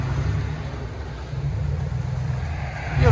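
A 2002 Lincoln Continental with a 4.6L V8, dual exhaust and the mufflers deleted idles with a steady, deep exhaust rumble close by, swelling slightly louder at the very end.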